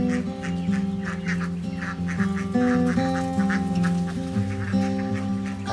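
A flock of ducks kept free-range around rice paddies quacks over a steady hum, with repeated overlapping calls, some near and loud, others softer in the background.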